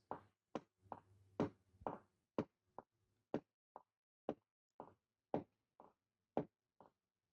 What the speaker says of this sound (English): If you've heard the knocking.